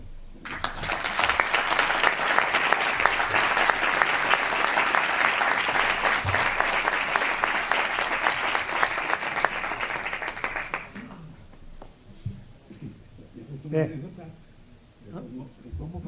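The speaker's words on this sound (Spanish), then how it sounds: "para la que pido un fuerte aplauso" Audience applause at a literary gathering honouring local writers in San Fernando, a loud sustained burst of many hands clapping that ends abruptly, leaving quiet room noise and faint talk.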